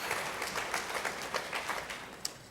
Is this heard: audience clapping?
yes